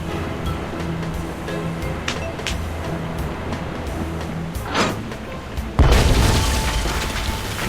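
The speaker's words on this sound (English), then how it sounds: "Nothing like a deafening cannon discharge to clear the mind." In the Tales of Monkey Island video game, a cannon fires with a sudden heavy boom that bursts out near the end, breaking through ambient seaside rumble and surf.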